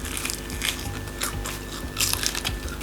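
Close, crisp crunching from bites into homemade Frank's baked chicken wings, repeated several times over a steady background hum, with no talking.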